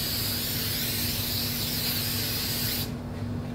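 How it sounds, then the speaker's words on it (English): Spray adhesive hisses steadily from an aerosol can onto a screen printing platen for nearly three seconds, then cuts off and leaves a quieter background. "I'm going to use the spray adhesive to go ahead and spray onto the platen"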